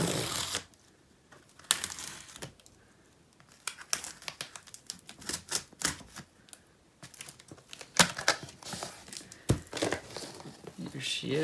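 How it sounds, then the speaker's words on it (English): A razor slices and tears open the packaging of a NOCO GB150 jump starter: crinkly plastic and cardboard rustling in irregular bursts, close and fairly quiet, with pauses between cuts. "We'll cut this thing open."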